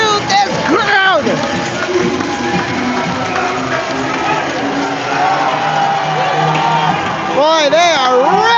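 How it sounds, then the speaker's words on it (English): A large crowd at a junior hockey game between Sioux Falls and Sioux City roars and cheers continuously throughout, loud and dense, with shouts and whoops rising again near the end. "Listen to this crowd."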